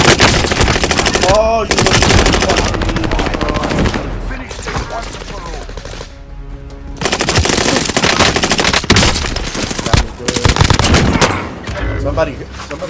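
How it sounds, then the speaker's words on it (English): Video game gunfire, dense bursts of rapid automatic shots and single cracks, loud and close, with a short lull midway and brief voices talking over it. "Somebody shot him."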